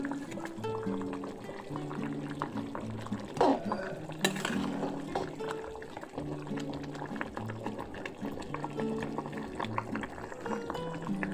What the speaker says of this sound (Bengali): খেচুড়িটা ফুটে এসেছে